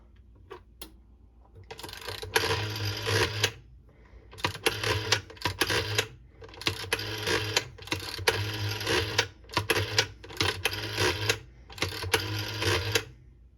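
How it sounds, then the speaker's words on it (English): A rotary telephone from China being dialed, its dial whirring back in repeated bursts of rapid clicking pulses separated by short pauses, close and clear with no talk. "And then I'll dial some numbers."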